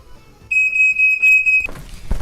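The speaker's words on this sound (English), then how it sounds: "I can guarantee the fire alarm is gonna go off" A smoke detector's shrill, steady electronic tone sounds for about a second in a home kitchen while breakfast is being cooked, loud and close, then cuts off abruptly into clattering noise.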